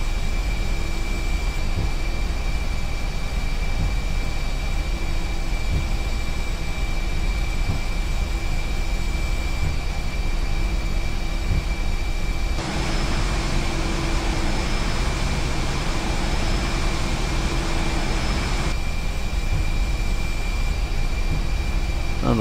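An A320neo airliner in X-Plane 10 taxiing to its gate at Zurich after landing, with a steady jet engine whine and hum from start to finish. A brief broadband swell comes in midway, and no one speaks.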